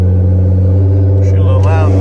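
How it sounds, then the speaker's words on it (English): A car engine cold-starting on E85 fuel, a loud, steady low idle rumble that runs through the whole stretch, with brief higher tones near the end. "that E85 cold start."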